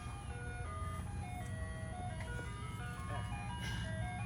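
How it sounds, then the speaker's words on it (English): An ice cream truck passes, its jingle a faint melody of tinkling tones over a steady low engine hum, heard at a distance. "There's an ice cream truck going."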